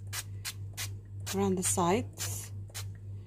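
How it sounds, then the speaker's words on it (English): Several short, breathy bursts of cooking spray hiss in quick succession into a mug, with a voice briefly speaking in the middle and a steady low hum underneath. "with a cooking spray, I'm just going to just spray"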